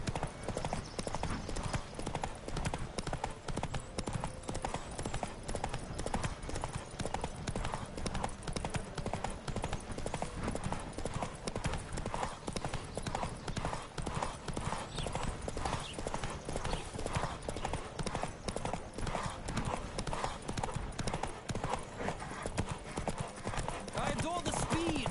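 Horses gallop in a race in The Witcher 3, hooves clip-clopping in a steady, dense rhythm throughout, loud and continuous, with riders' voices calling out over the pounding hoofbeats.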